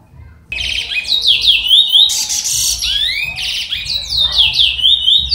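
A male songbird sings near a female during courtship, delivering rapid, loud, shrill chirps and whistled trills in quick bursts that continue almost without pause, close to the listener.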